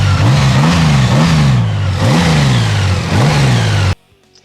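A Honda Gold Wing motorcycle engine revs up and down about four times in quick succession, each rise and fall a loud smooth whine close by. It cuts off abruptly near the end.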